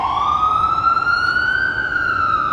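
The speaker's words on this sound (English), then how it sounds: "another fire department ambulance." A fire department ambulance siren passes on an Upper West Side street, a loud, steady wailing tone that slowly rises and falls over a background of road traffic.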